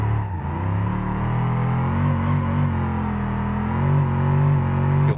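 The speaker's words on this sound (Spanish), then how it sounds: "ya el motor se empieza a notar un poco raro" A damaged car engine in BeamNG Drive runs steadily with a loud, rough drone, its pitch rising and falling slightly as it revs, with no one talking.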